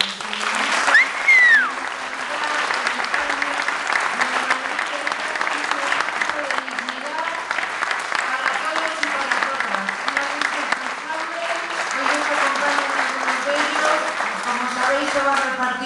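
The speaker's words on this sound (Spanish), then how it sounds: "Y pido un aplauso para ellos." An audience at a political rally in Fuenlabrada claps in a long, dense, steady ovation, with a few voices calling out and a speaker's voice running beneath the applause.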